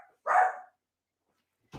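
A puppy, excited and wound up, gives a single short, loud bark, followed by silence and the start of another sound at the very end.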